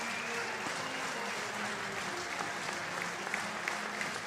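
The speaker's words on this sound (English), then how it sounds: "Warm applause for Coleman Were" Stadium crowd applauding warmly at a Rugby World Cup 2019 repechage match between Hong Kong and Kenya, a steady, dense wash of clapping that holds level throughout with no break.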